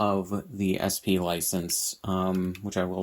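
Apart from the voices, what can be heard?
No everyday noises stand out.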